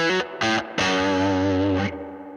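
Electric guitar runs through a Tube Screamer-style overdrive set to 30% on a Fender Tone Master Pro, giving two short clipped chord stabs followed by a longer sustained crunchy chord that rings out and fades.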